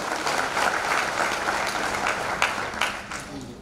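Audience applause at a Marathi lecture for young people, a dense steady clatter of many hands clapping together, loud and sustained throughout with a few sharper claps standing out near the end.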